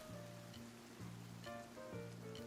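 Soft, steady rain in the video game Sons of the Forest patters quietly under faint, sustained electronic music tones, with no voices.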